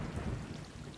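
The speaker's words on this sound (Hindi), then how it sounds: "बादल भी गरज रहे हैं।" Deep rolling thunder in the video game Stray, a continuous low rumble mixed with a heavy downpour of rain, with no voices.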